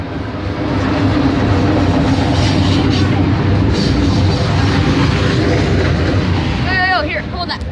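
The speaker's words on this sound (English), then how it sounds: "Oh my god, that train just passed like that." A train rushes past close by, a loud continuous roar with clattering wheels and a brief squeal near the end.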